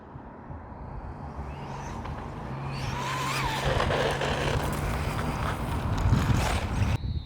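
A Losi Promoto MX RC motorcycle running in mode 1: a rushing motor whine mixed with tire and ground noise that grows steadily louder, then cuts off abruptly at the end.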